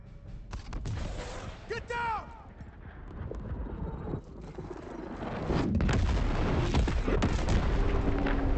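Enemy missiles striking in Gears Tactics battle, a series of heavy booms and blasts building into a loud sustained rumble, with game voices shouting over the combat.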